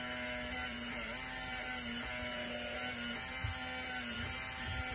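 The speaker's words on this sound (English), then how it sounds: "So I'll turn the printer on and press print." An HP82240B thermal printer prints output sent from a DM42 calculator, giving a steady electric buzzing whine with faint rhythmic pulses as each line feeds, close and alone.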